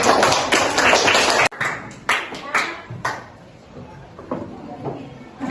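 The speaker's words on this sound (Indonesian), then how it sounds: "kasih aplaus untuk kelompok 1" Students in a classroom applaud group 1 with a burst of dense clapping for about a second and a half, which cuts off abruptly. Scattered taps and a speaking voice follow.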